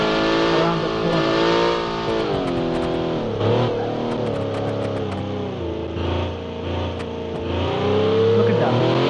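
A high-downforce car in the Automation game revs at full throttle, its engine note climbing and dipping through gear changes in a loud, sustained whine with strong harmonics.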